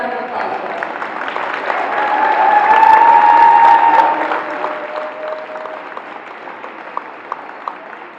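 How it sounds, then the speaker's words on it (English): A basketball game crowd claps in sustained applause that swells to a peak and then thins out, loud and filling the space, with scattered individual claps toward the end. "One more round of applause for us."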